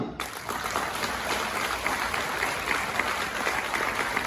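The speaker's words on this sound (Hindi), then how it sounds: "बजाओ ताली" Audience clapping at a multi-level marketing leader training session, a steady crowd of hands applauding continuously at moderate loudness.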